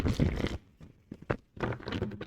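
A brand-new, crisp tarot deck being shuffled twice, with two bursts of close riffling and flicking card noise separated by a brief quieter gap.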